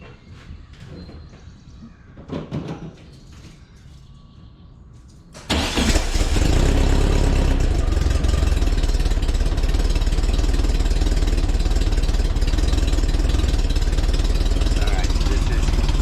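A 1961 VW Beetle engine cranks and fires after a few seconds of quiet workshop handling and speech. It then settles into a loud, steady, close idle that drones evenly to the end.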